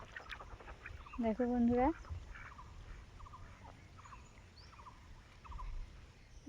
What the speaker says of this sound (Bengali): মাঠে দেখো কত হাঁস চড়ছে